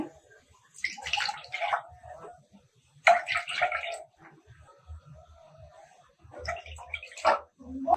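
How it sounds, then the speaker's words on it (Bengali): Three cups of water pour into a pan on a stove in splashing bursts, close and fairly loud, separated by pauses filled with quiet sounds of handling. "প্যানে দিয়ে দিচ্ছি তিন কাপ পানি"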